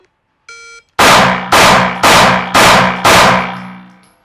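Five loud, sharp reports at a steady half-second cadence during a live-fire drill, each with a ringing decay, preceded by a short electronic beep from a shot timer.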